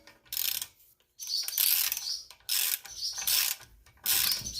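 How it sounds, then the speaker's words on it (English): A hand ratchet clicks rapidly in several short bursts while tightening a bolt on the front hub of a 1990–93 Honda Accord, close and crisp, with brief gaps between strokes and no talking. "Go ahead and get your ratchet."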